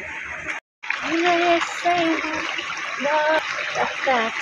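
Water runs and splashes at a spring in western Palpa as a container is filled and a face is washed, a continuous wet rush beneath close conversational voices, with one brief silent gap early on.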